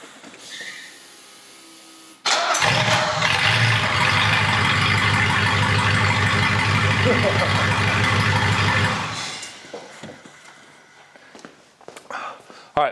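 Mercedes 380SL with open headers cranking and firing up in cold weather, then a loud, raw, close idle with a deep rumble for several seconds before it cuts off, followed by faint shuffling and movement.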